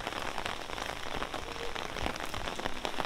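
Steady rain pattering on hard surfaces at Kousanji Temple in Japan, a dense, even hiss of drops close by with no voices.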